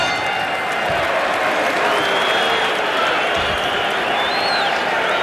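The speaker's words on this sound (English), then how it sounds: "the crowd is applauding the courage of Steve Zouski" Boxing arena crowd applauding a heavyweight bout involving Mike Tyson and Steve Zouski, a dense, steady wash of clapping and crowd noise filling the hall throughout, with a few faint whistles over the top.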